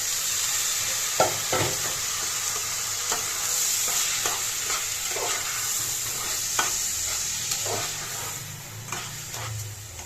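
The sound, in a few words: sautéing spiced soaked rice for pulao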